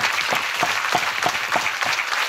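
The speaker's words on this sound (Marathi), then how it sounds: "या टाळ्यांचा आवाज नक्कीच माझ्या आईपर्यंत पोहोचो" Loud, sustained applause from a conference audience, many hands clapping together in a steady rhythmic roar.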